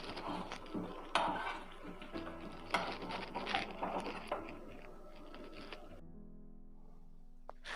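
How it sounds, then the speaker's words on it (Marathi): Malvani-style pomfret fish frying in about five to six spoons of oil in a pan, turned to cook the other side: close sizzling with clinks and scrapes of a utensil for about six seconds, then near silence. "आता आपण ह्याला दुसऱ्या बाजूने पण फ्राय करून घेऊया"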